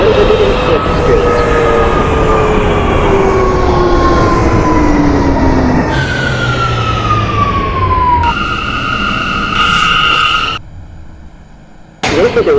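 An R179 subway shuttle train in the OpenBVE simulator runs with a loud steady rumble and rising, falling whine tones that shift abruptly a few times, cut briefly near the end before the roar returns.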